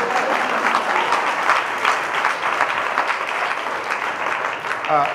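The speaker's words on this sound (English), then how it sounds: "Oh, you can clap on that." Audience applause at a city resiliency strategy launch event: dense, steady clapping from a large crowd fills the whole stretch at an even level.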